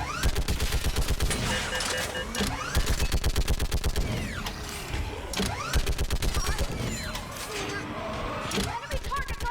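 Rapid automatic gunfire fills a battle in the Mass Effect 3 video game, long rattling bursts separated by short gaps, with laser-like whooshes and a voice calling out over the shooting.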